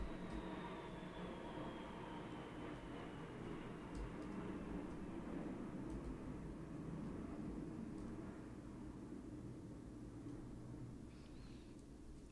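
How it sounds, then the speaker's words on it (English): A plane passes overhead, a broad steady rumbling roar that holds for about twelve seconds and eases slightly toward the end, with no speech over it. "Some plane flying over me."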